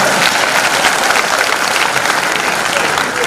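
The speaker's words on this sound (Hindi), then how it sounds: "पहले ये तो बोलो, तो ताली मारो।" Dense, loud audience applause fills a hall at the IFFI 2018 film festival session, steady clapping with no pause across the few seconds.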